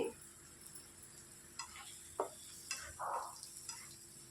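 Eggs get stirred into a dhaba-style masala gravy curry, giving faint scattered taps and scrapes of a spoon against the pan over a low simmering hiss.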